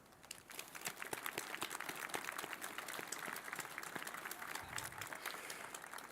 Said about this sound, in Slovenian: da za to zaslužijo en velik aplavz.